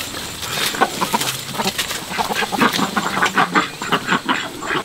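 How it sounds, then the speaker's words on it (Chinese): Ducks and a rooster on a rural farm make repeated clucks and quacks in quick, uneven bursts, fairly close and loud, with no talking. "哎呀，还有鸭子。"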